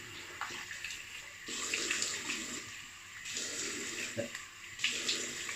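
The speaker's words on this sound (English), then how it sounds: "I'm going to rinse the alum off my face" Tap water runs steadily as alum is rinsed off a face at a sink, with splashing bursts where hands scoop and splash, the flow swelling and easing in waves, close and fairly loud, with no talking.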